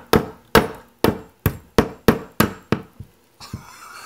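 A hammer strikes a 3D printed nylon part repeatedly, eight sharp, loud blows in a steady rhythm that ends as the ball stud breaks, followed by a couple of softer knocks and some handling noise.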